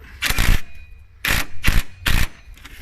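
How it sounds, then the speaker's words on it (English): An 18 mm wrench tightening the top rear shock bolt on a 2001-2007 Dodge Caravan, four loud, close ratcheting bursts separated by short pauses. "And tighten the top one."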